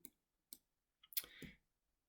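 Computer mouse clicks at a desk, two crisp isolated clicks followed by a quicker double click with faint handling noise, close and quiet.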